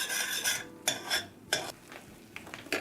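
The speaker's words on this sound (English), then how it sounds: "we're going to cook this for about a minute, stirring it constantly" A cooking mixture stirred constantly in a pot at a Southern kitchen stove, with repeated scraping strokes of a utensil against the pan in an uneven rhythm, close and moderately loud with no talking.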